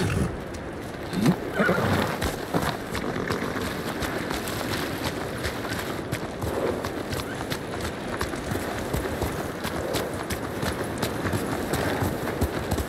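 Horse hooves clatter in a steady gallop in Ghost of Tsushima over a dense wash of background noise, with a brief whinny near the start.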